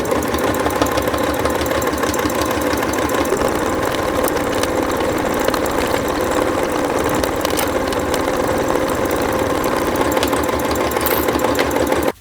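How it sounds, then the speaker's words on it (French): A sewing machine runs steadily, stitching bias binding onto a child's rain cape, its loud, even mechanical whir continuing without a break from start to finish, with no talking. "Et c'est parti pour la couture du biais."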